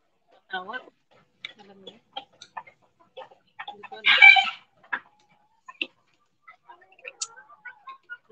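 Chickens cluck and call in short bursts close by, with scattered sparse sounds and a brief louder squawk in the middle.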